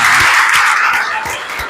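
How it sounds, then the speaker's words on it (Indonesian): Children in a classroom clap together, a loud, dense wash of applause with a few sharper individual claps, fading slightly toward the end. "Oh, kasih tepuk tangannya buat kita semua"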